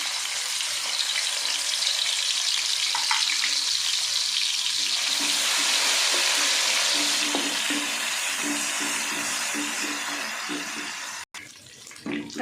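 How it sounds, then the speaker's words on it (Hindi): Ginger, garlic and green chili paste frying in a pan, a steady loud sizzle with occasional soft stirring clinks, continuing throughout before a brief break near the end. "अदरक लहसुन हमारा अच्छे से सौते हो गया। फ्राई हमने इसे 1 से 2 मिनट हमने फ्राई कर लिया।"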